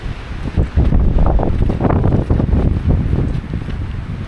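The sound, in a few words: wind blowing on a hike after a tunnel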